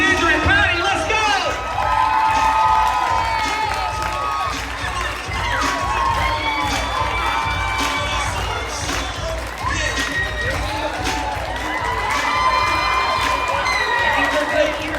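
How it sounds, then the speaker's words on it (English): Big crowd at a Wine, Women & Shoes charity event cheering, whooping and shouting continuously, with loud excited voices and yells filling the room for the whole stretch. "Y'all make some noise for Alexander and Patty"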